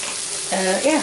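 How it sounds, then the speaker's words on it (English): Chopped frankfurters sizzle in a hot pan, a close, steady frying hiss over about a second with a faint tonal murmur in the background. "Cut these frankfurters up and put them in the pan"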